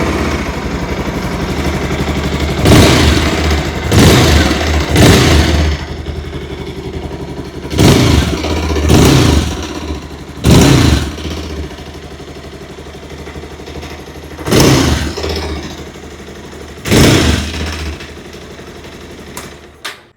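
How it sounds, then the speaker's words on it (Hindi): A 2026 Bajaj Pulsar 220F motorcycle idles with a low, throaty exhaust burble, punctuated by several loud revving blips that rise and fall in bursts, close by and without speech. "आइए अभी सुन लेते हैं इस बाइक की एग्जॉस्ट नोट।"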